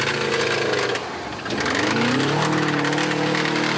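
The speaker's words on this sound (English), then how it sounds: "It's cracked a piston. That's what that knock is." A 4x4 trials vehicle with a cracked piston, its loud engine revving hard with a rough, uneven note, dipping briefly before climbing back to a sustained high-revving roar at an outdoor Xtreme 4x4 trials event.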